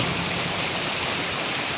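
A downpour drums on without letup in Payyoli, Kozhikode, a thick, continuous rushing wash of rain heard close up, with no one speaking.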